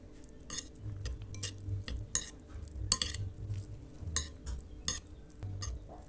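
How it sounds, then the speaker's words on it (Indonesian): Fried noodles being stirred with a utensil to mix in the seasoning, giving repeated light scraping and clinking taps against a pan or bowl at an uneven rhythm, close and moderately loud, with a low steady hum underneath. "Kita aduk-aduk supaya bumbunya tercampur rata."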